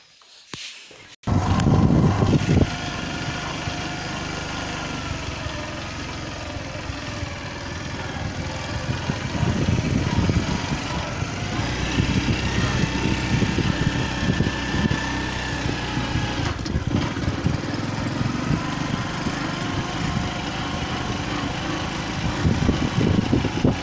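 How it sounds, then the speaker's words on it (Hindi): A motorcycle on a farm starts with a sharp burst and then runs continuously, its light engine chugging close by as it rides off along the path toward another field, with no talk over it. "मोटरसाइकिल कर दें जी स्टार्ट"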